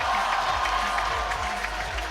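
A crowd applauds and cheers steadily for a powerlifter at a Sheffield 2024 powerlifting bench press event, dense continuous clapping filling the hall with cheers mixed in, and an announcer talking over it.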